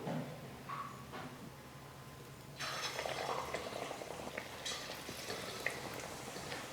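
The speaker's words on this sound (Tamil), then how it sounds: "எண்ணெயில் எடுத்து போட்டுக்க போகிறோம்" Potato-stuffed boiled eggs dipped in gram flour batter sizzle in hot oil, a quiet background hiss that swells into a steady crackling fry partway through.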